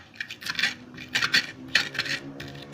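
Garlic, shallots, coarse salt, coriander, candlenut and a little ginger are ground into a paste for Cirebon docang, with quick repeated grinding and scraping strokes in an irregular rhythm, close by and without speech.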